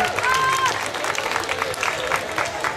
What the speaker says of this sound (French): beaucoup d'applaudissements pour ce prix spécial